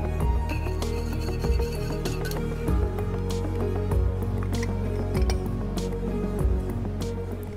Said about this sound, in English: Three centiliters of the famous blood orange and raspberry vinegar shrubb.